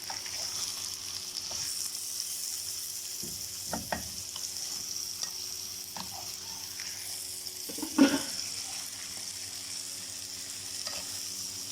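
Sausage fries in a pan with a steady, soft sizzle throughout, broken by a few light clicks and stirring scrapes, one slightly louder knock near the end, with no talking.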